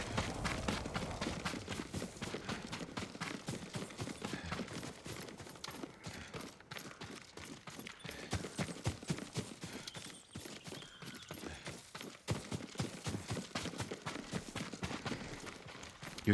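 Horse hooves clip-clop steadily in Ghost of Tsushima, a busy, dense rhythm of hoof falls on ground with no talk over it.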